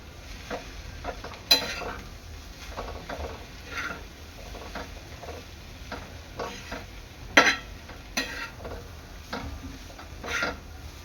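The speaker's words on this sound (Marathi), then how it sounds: "ह्याच्यावर मी थोडेसे काजू टाकणार आहे आणि कोथिंबीर आणि मिक्स करून घ्यायचं आहे." Cashews and coriander being stirred into palak rice in a pan, a spoon scraping and clinking in irregular bursts over a faint sizzle, close and fairly quiet with no talking.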